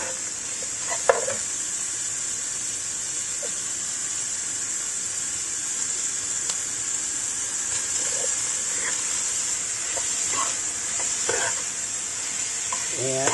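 Ground pork fries in a pan with a continuous loud sizzle and hiss. A spoon stirs and scrapes through it now and then, and a voice speaks faintly underneath.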